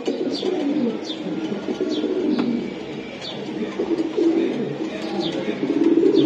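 Tournament pigeons coo steadily in overlapping low, throaty calls at close range, with a few brief chirps above.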